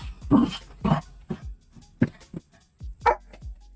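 A sick, unwell dog gives a few short, soft whimpers and whines at irregular intervals, close by, with brief quiet gaps between them.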